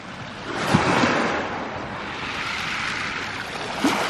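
Ocean waves wash onto a New Zealand shore with a steady broad roar of surf and light wind rumble on the microphone, swelling slightly at the start and end, with no talk.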